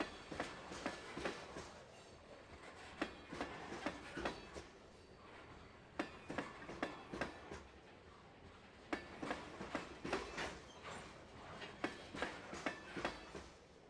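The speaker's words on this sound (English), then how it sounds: "A few minutes later, and the last car of the train passes by." A freight train hauling iron ore pellets rolls past a river crossing at dawn, with repeated clickety-clack wheel beats over a steady rumble, heard from a distance without talk.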